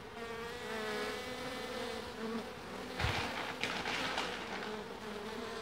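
Honeybee swarm buzzing steadily up close during a bare-handed hive capture, a dense sustained hum with a brief rustle or bump midway and a few words spoken over it.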